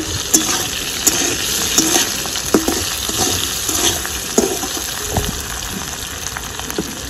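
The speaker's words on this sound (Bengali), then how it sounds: "হালকা করে ভেজে নিব সব সবজিগুলোকে।" Mixed vegetables for Bengali shukto fry lightly in a pan with a steady close sizzle, broken by a few louder stirring scrapes and knocks, with no voices.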